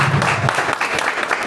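Audience applause for a colleague at a company trainer's seminar, a dense, steady patter of many hands clapping close by, filling the whole short stretch without a voice over it.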